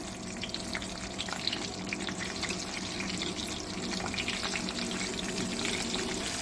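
Eggplant pieces sizzle in hot oil in a home kitchen, a steady, moderately loud crackling hiss that continues without pause.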